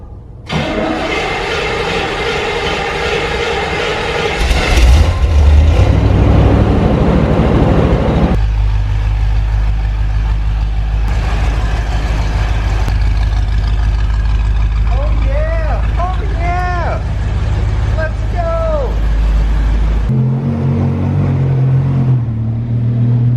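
A Chevrolet Corvette engine cranks and catches with a loud rumble near the five-second mark, then settles into a steady low idle for the rest of the clip.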